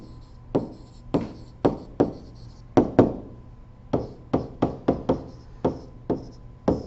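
Chalk or marker taps and strokes on a board during a math lecture come as a quick, irregular series of sharp, close clicks and short scrapes, with no talking.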